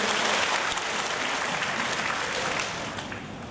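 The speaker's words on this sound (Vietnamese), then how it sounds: "Cho một tràng vỗ tay là những người chủ làm đi" A room of new university students claps together in a continuous, even burst of applause during an orientation session, fairly loud and close, easing off in the final second.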